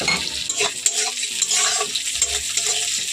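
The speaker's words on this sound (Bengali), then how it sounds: "তো এখন আমার পেঁয়াজগুলো ভালোভাবে ভাজা হয়ে গেছে" Chopped onions and green chillies frying in a pan, a soft sizzle with spoon scrapes and stirring clinks, close and moderate in level.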